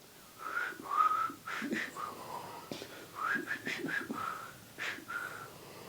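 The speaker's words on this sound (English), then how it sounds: "There's about 4 bars of whistle." Melodic whistling played back from an old tape recording, a short tune of several bars with wavering sustained notes, fairly faint and thin, with no talking over it.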